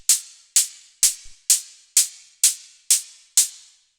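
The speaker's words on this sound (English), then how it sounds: "Then we have the synth hi-hat, which I made with operator, and it sounds like this." A synth hi-hat built in Operator from white noise through a bandpass filter plays on the upbeats of a dark atmospheric techno pattern, eight crisp, bright, evenly spaced ticks with short decays, alone and clear.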